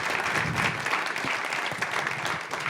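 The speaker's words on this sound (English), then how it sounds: "Round of applause for everybody." Audience round of applause at a brain health discussion event, steady dense clapping sustained throughout at moderate loudness.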